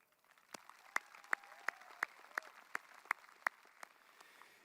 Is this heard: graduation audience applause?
yes